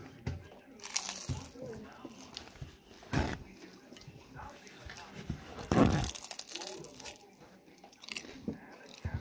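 A crunchy quesadilla is bitten and chewed up close in several loud, crisp crunching bursts spread across the stretch, with faint voices in the background.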